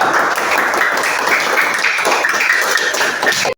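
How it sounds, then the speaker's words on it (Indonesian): Students in a classroom give group 3 a burst of applause, many hands clapping densely and steadily at close range for a few seconds before it cuts off abruptly. "tepuk tangan untuk kelompok 3"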